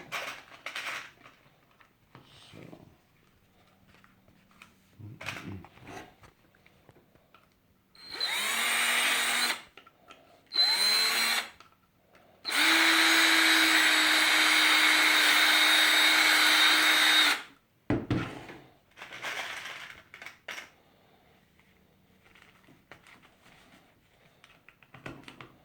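A power drill whines in short spurts and then one long continuous run as it bores through a PVC holster for rivets, with quiet handling clicks and clatter in the pauses between.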